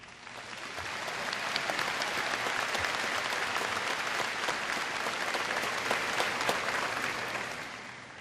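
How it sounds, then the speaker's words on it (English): A high school graduation audience applauds the school staff, a broad wash of clapping that swells in, holds steady and full for several seconds, then tapers off at the end. "And it was really clear earlier by the applause"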